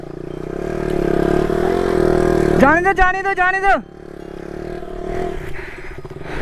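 KTM sports bikes struggle out of off-road mud, with a rough engine drone and a sharp rising rev burst in the middle, followed by lower rumbling as people talk over it.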